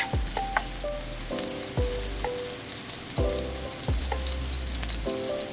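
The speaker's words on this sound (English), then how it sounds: "Then drop in the green onions, the green peppers. Do a stir fry." Green onions and green peppers stir-frying in a tablespoon of oil, a loud steady sizzle punctuated by repeated rhythmic thuds and scraping strokes of the spatula, close and without talk.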